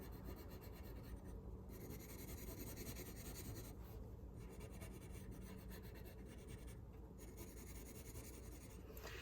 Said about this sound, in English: I'm going to keep going up this side using pencil